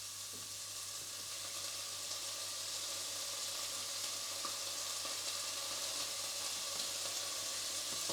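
Stir fry sizzles steadily in a pan with soy sauce and sweet chilli sauce, a close, even hiss that holds for the whole stretch with no talking.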